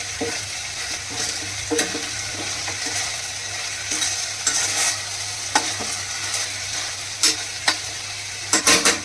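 Cluster beans with carom seeds stirred in a hot pan, a steady sizzle broken by scraping spoon strokes that grow sharper and more frequent toward the end.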